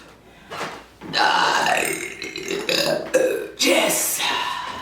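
A person lets out several loud, long, drawn-out burps one after another, close up, with rough, throaty rumbling that swells and fades between bursts.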